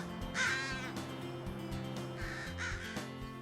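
A crow gives two harsh caws about two seconds apart, clear and fairly close, with soft background music underneath.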